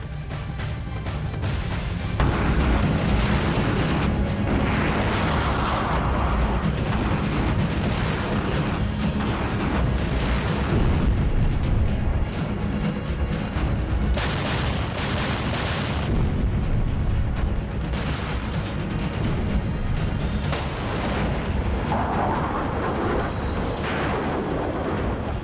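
Explosions from a drone attack on a Russian warship at Sevastopol, heavy booms and rumbling blasts that roll on in bursts over a constant low roar, loud and sustained with no voices.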